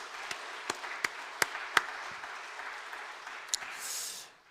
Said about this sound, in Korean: 알지 못하는 곳에서 남모르게 수고한 모든 분들 위해서 우리 다시 한번 박수 보내겠습니다.